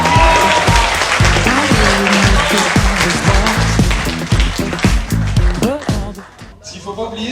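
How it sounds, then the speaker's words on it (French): Applause for a retired member at a banda's twentieth-anniversary party, loud clapping mixed with band music and lively talk from the crowd, tapering off near the end. "On l'applaudit quand même."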